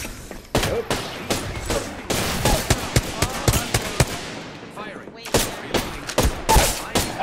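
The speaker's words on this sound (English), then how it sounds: "Yeah, getting shot at." Gunfire in a video game match, with dense bursts of rapid shots and sharp single cracks separated by brief pauses, loud and close throughout.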